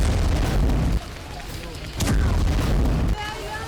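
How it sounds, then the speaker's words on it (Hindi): Heavy booms and bursts of gunfire from street fighting in the West Bank come in loud, rough waves with sharp cracks between them, while a voice talks over the clamor. "हमले, बमबारी, फायरिंग, झड़प और टकराव।"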